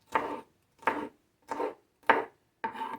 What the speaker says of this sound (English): if this chopping is loud, just turn the volume on your phone